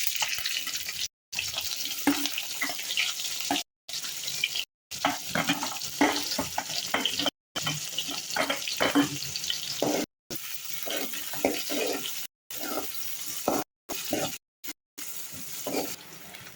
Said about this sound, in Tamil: அடுத்து கொஞ்சம் பெருஞ்சீரம் போடலாம் பெருஞ்சீரம் போடலாம் போட்டுட்டு வெங்காயமும் புள்ளி சேர்த்து போட்டு வளர்த்துவோம்